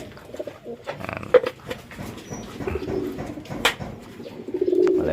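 Racing pigeons at a mini derby race coo in soft, repeated throaty calls close by, with scattered shuffling and light background noise between the calls.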